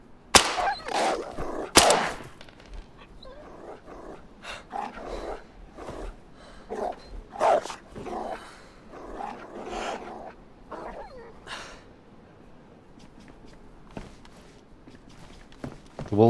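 Wolves in the survival video game DayZ, heard as a run of howls and growls from a pack, with several sharp louder bursts near the start and occasional footsteps, fading toward the end.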